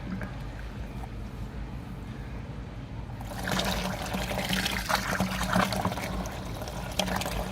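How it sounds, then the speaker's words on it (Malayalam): Homemade liquid plant fertilizer is scooped with a cup and poured directly onto newly planted plants. After a quiet few seconds, a close, steady splashing pour begins and continues to the end. "പുതുതായിട്ട് നടുന്ന ചെടികളാണെങ്കിൽ ഡയറക്റ്റ് കപ്പ് വെച്ച് കോരി ഡയറക്റ്റ് ഒഴിച്ചു കൊടുക്കാം കേട്ടോ"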